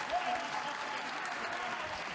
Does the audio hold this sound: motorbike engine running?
no